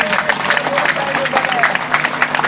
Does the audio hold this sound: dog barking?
no